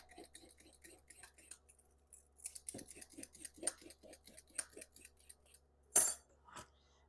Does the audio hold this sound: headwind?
no